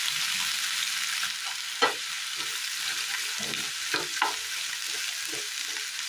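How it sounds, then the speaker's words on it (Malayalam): Brinjal and chopped onion sauté in a hot pan for a curry, a steady bright sizzle running throughout with a few sharper scrapes and stirs of a utensil against the pan. "നല്ലതുപോലെ ഒന്ന് വാടി വരേണ്ടതുണ്ട്. വാട്ടിയെടുക്കാം."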